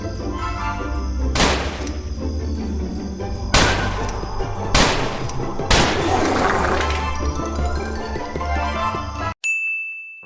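Gunshots ring out in the Western shooting game Westbound, four sharp cracks spread over several seconds over steady game ambience and music, with a ringing ding near the end.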